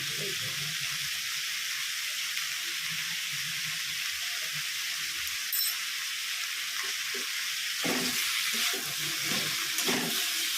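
Vegetables frying in oil with ginger paste, a steady close hiss and sizzle throughout with faint stirring clatter, growing slightly busier toward the end.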